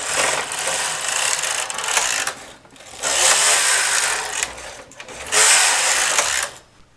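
A mid-gauge knitting machine carriage knits rows of a scrubbie, giving three loud, even whooshing passes, each about two seconds long, with brief pauses between them.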